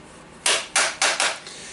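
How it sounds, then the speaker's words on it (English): Four sharp metallic hammer blows in quick succession strike a part during a repair of a Bosch GBH 5 DCE SDS Max hammer drill, each hit loud and close, evenly spaced, with no talking. "now I need to hammer this one a little bit"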